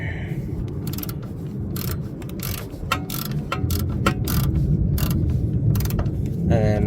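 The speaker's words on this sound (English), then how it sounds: "gonna put the wrench on this side, and then we're gonna ratchet the nut out of here." A ratchet wrench works loose a 17 mm strut nut while an automatic transmission is swapped on a Honda D16Y5 car. Rapid clicking bursts repeat over about seven seconds, close and steady, over a low mechanical background.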